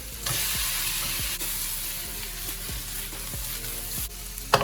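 Shrimp sizzle in a hot stir-fry pan, a steady frying hiss punctuated by a series of soft regular knocks as they are moved about, ending with a sharper clack.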